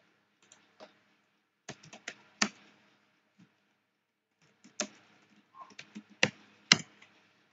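Commands typed on a computer keyboard into a terminal during a cybersecurity lab: scattered close key clicks and taps in two short bursts separated by a quiet gap, no talking.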